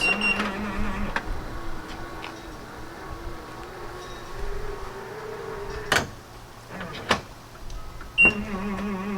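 An aftermarket Hansshow powered frunk lid motor on its slowest setting whines slowly and steadily for several seconds, broken by a few sharp clicks and short electronic beeps.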